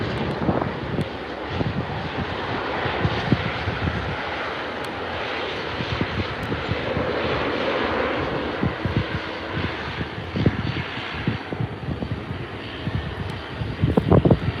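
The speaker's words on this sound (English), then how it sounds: "Jet." A jet airplane passes at Vancouver International Airport, a steady, broad roar that holds at an even level and swells slightly near the end, with no talking.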